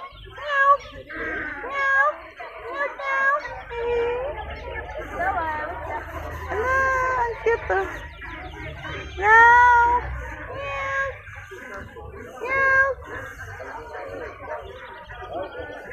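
Several cats meow repeatedly, high wavering cries overlapping with background chatter and a low hum, fairly close.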